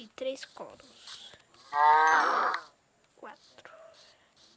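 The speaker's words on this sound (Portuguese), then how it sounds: "Vacas, cadê vocês?" Video game cows mooing in a farm village setting, two or three drawn-out moos with one loud sustained call in the middle, interspersed with a person talking and whispering.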